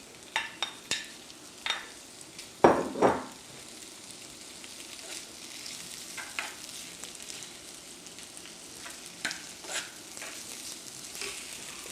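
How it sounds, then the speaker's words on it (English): Vegan sausage frying in a pan for a Swedish stroganoff, a low continuous sizzle broken by repeated sharp clinks and scrapes of stirring, one louder clatter early on, near and without speech. "Now I'm going to add the sausage."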